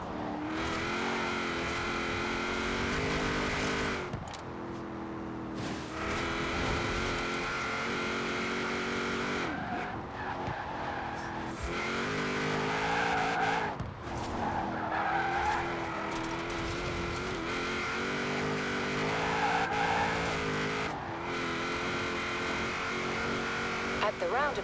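A car engine in the racing game Forza Horizon 4 revs and roars through gear changes, with tyre squeals, while someone talks over the steady, loud engine drone.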